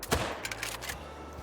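A 30-30 lever-action rifle, used as a brush gun, fires one loud, sharp shot right at the start, followed by a short fading echo and low rumble.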